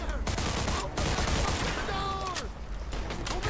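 Gunfire in the Mafia II video game, with rapid bursts of shots mixed with game sounds and a voice talking over them.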